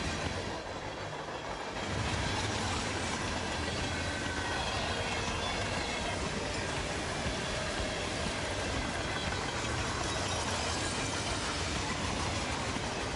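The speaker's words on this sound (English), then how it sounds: "We're on a train!" A train rolls along in the video game Hitman 3, a loud, steady rumble of wheels and rushing wind that swells after a couple of seconds and holds constant, with no talk.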